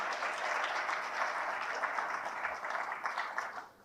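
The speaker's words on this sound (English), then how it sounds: "So please give them a round of applause as well." An audience claps steadily for task force members at a G20 policy event, a dense, even wash of applause that holds for several seconds before tapering slightly at the end.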